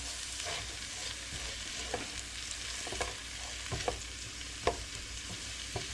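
Garlic, onions and ground pork sausage sizzle in a hot pan while being stir-fried, a continuous crackling hiss broken by a few scraping spatula knocks, with no voices.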